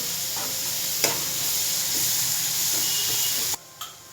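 Chopped tomatoes fry in a pan of karuvadu thokku with a steady, close sizzle and a soft hiss. A couple of stirring knocks come through before the frying cuts off abruptly near the end.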